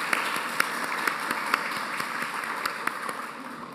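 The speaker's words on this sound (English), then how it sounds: "I'd like to give everyone a round of applause again for their great contributions" A symposium celebrating women's impact closes with audience applause: a moderate, even patter of many hands in a large room, with a few sharper individual claps standing out.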